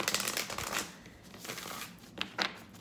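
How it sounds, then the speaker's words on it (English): Tarot cards being shuffled by hand, a busy papery riffle of rapid flicks and slides that comes in bursts, with a couple of sharper card taps near the end and no talking. "while I'm shuffling"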